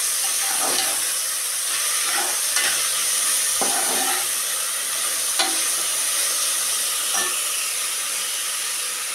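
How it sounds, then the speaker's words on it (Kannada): Chopped fenugreek leaves frying in hot tempering oil, a loud, steady hiss and sizzle with occasional scraping strokes of a spatula stirring the pan throughout. "ಇವಾಗ ಇದನ್ನು ಸ್ವಲ್ಪ ಒಗ್ಗರಣೆಯಲ್ಲಿ ಕಂದಿಸ್ಕೋಬೇಕು"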